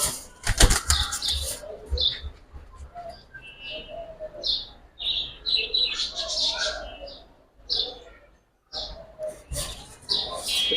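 Pigeons, large Giribaz high flyers, flap their wings in bursts, with a sharp clatter of wings at the start and scattered chirps and coos between quiet gaps.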